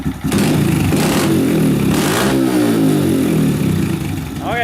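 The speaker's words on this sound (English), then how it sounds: "the big 125 with the custom FMF exhaust. Let's hear it, Dill." A 125 dirt bike fitted with a custom FMF exhaust revs hard and close, its engine roaring at a steady high pitch for several seconds before easing off slightly at the end.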